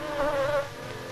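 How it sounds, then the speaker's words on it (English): Bees or wasps buzzing around a nest being raided by a badger in the fens, a steady insect drone with wavering pitch, close and moderately loud, heard on its own. "the reason for another delicacy, a bee's nest. Or wasps, Brock isn't fussy."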